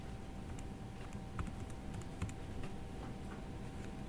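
Buttons tapped on a calculator while working a trigonometry exam problem, a few light, quick clicks scattered over a constant low background hum, faint and close.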